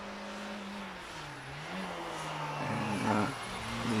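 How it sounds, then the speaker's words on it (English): A Renault Clio 2-litre saloon car sets off at the Prescott hillclimb, its engine droning steadily and rising in pitch as it pulls away, loud and continuous with no talk over it. "David Garnett gets underway in the Renault Clio, first of the Midland Championship runners."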